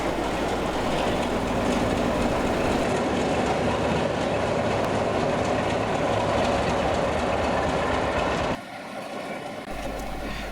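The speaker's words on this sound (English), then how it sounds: "we're able to see our Class 14 tailed by our Class 33 heading through Bury North Tunnel and into the station" A Class 14 diesel locomotive tailed by a Class 33 runs out of Bury North Tunnel into the station at a heritage railway diesel gala, with a loud continuous rumble and rolling wheel noise up close.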